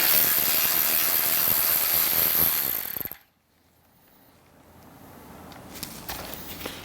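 A ratchet works loose the two 11mm bolts holding a 300-watt Boom Audio amplifier in a Harley-Davidson, a dense, loud, close rasping for about three seconds that stops abruptly and leaves quiet room noise.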